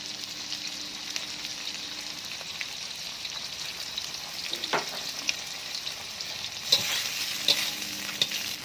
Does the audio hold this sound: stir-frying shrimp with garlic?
yes